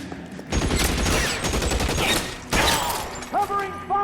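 Video game gunfire in L.A. Noire: a loud, dense burst of rapid shots, a short pause, then another volley, with a shouted voice at the end.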